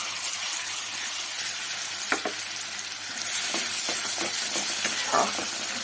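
A dried red chilli and cumin seeds frying in hot oil in a pan, with a steady close sizzle and a few sharp crackles and stirring clicks.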